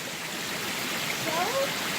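A waterfall and stream on Makamakaole Stream in Maui produce a steady, soft rushing wash of water, heard from a little way off, continuous and even throughout.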